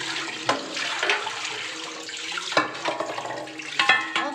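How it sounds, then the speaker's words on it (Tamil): Running water rinses cleaned fish, a steady splashing flow with irregular bursts and sloshes close by, no talk over it. "இப்படி க்ளீன் பண்ணிவிட்டு கழுவிடலாம்"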